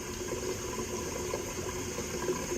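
A bell siphon draining water as its vacuum takes hold, giving a steady, continuous rush and gurgle of flowing water, close and even throughout.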